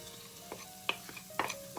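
Black pepper and pounded garlic fry in a pot for a Thai mixed-vegetable soup, giving a low sizzle broken by a few sharp clinks and scrapes of stirring.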